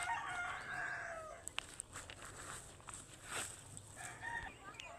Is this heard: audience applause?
no